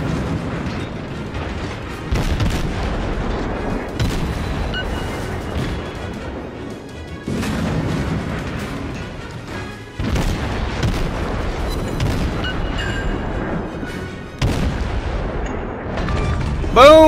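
Naval guns firing in the World of Warships video game, a series of heavy booming salvos repeating every few seconds, loud and close over rumbling game noise.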